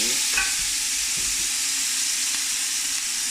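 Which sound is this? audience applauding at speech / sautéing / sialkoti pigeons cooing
sautéing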